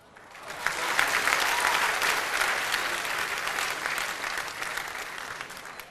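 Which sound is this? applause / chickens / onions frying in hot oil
applause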